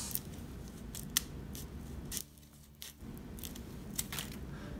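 PLUS Fit Cut Curve titanium scissors slice through a thick 32-sheet stack of paper, giving a steady close crunching and rasping with several sharp snips, a short quieter pause midway, then more cutting.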